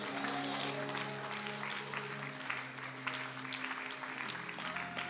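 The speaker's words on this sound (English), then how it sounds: "Rise up on your feet and give the Lord a clap offering." Church congregation at an anointing and prayer service claps together, steady clapping under sustained organ or keyboard tones, moderately loud and continuous with no voices standing out.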